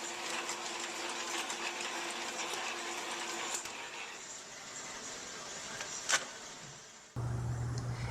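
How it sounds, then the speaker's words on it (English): Printing machine turning out round vinyl record labels at a pressing plant, a steady faint mechanical clatter and whir with repeated light ticks, then a shift to a lower hum near the end. "This machine is printing the round labels that will go in the center of each record on each side."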